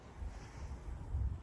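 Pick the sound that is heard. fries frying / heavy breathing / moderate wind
moderate wind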